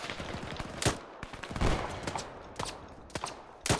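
Gunfire in a military video game: a string of sharp, loud shots at irregular intervals, some clustered in quick bursts, with no talking.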